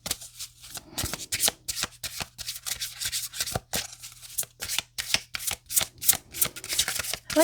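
Tarot cards shuffled by hand in a steady run of quick riffling, rustling bursts, some sharper slaps as the deck is cut, close and fairly clear with no talking.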